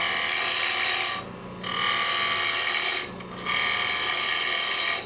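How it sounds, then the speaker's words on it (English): A hand tool cuts into the interior of a two-piece hollow wooden vessel. Loud, steady scraping runs in long passes, broken by two short pauses, with no talking. "Now this is how I started going in and hollowing."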